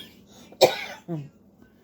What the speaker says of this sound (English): She said my cough is from pollen.